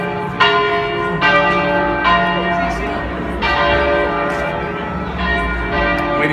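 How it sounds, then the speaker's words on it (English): A church bell tolls with rich, sustained metallic tones, several strikes overlapping and ringing on, loud and dominant, with a faint voice underneath. "Waiting for the bell."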